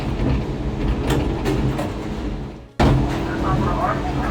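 Small, compact Gateway Arch tram car rattling and shaking as it rides, a dense, steady mechanical rumble with a brief drop-out before resuming, close and enclosed, with a voice speaking over it.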